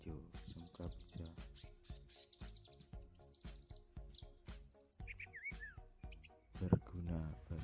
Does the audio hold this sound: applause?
no